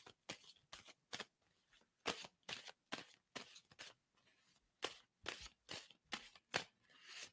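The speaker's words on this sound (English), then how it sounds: "tell me when to stop shuffling on that" Tarot cards being shuffled by hand, a quiet, close series of crisp riffling bursts in an uneven rhythm with short pauses between, no talking over them.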